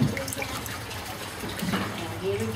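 Water runs from a tap, a steady soft splashing stream filling a container, with a voice speaking briefly over it.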